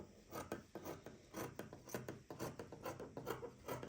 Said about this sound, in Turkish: Şimdi tabanımı kesiyorum.